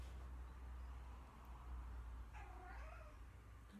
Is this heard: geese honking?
no